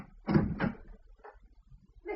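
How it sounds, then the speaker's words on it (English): Radio-drama sound effect of a flat door being tried and opened: a short handle rattle and creak followed by a softer knock and shuffle, close and alone with no talk. "There was no answer, and I tried the door."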